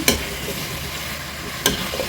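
Pork belly and potatoes fry in a pan over high heat, a steady sizzle with two sharp scraping stirs near the start and near the end.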